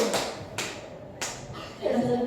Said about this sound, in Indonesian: Ada tepuk pagi, kita pukul sekali.